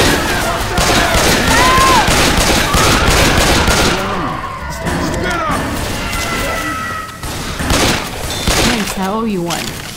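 Left 4 Dead 2 gameplay on Dead Center at Advanced difficulty: loud, rapid gunfire and crashing impacts fill the scene, and character voices shout over the shooting.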